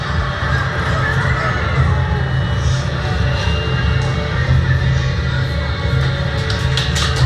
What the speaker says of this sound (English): Big round of applause for the guys